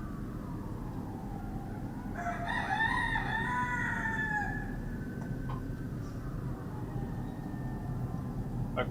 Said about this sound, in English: a rooster is doing this